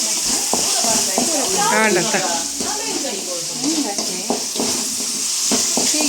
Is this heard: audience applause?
no